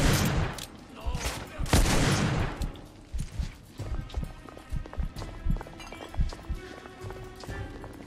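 Bursts of gunfire in the video game The Order: 1886 crackle early on, followed by rapid hoof-like clopping and scattered impacts, with a voice occasionally speaking over the action.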